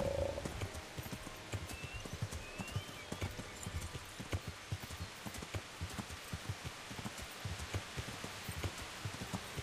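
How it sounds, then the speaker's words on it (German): Steady rain falls in the medieval game Kingdom Come: Deliverance, a soft broadband hiss running throughout while a horse's hooves clip-clop in a close, regular rhythm beneath it. "Boah, und es regnet auch noch."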